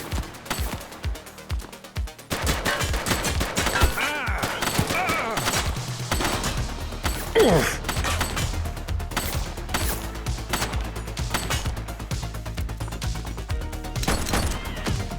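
Rapid bursts of gunfire in the police game The Precinct, loud volleys of shots repeating over tense music and effects, with voices calling out between the shooting.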